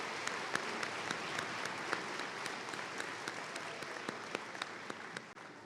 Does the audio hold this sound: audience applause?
yes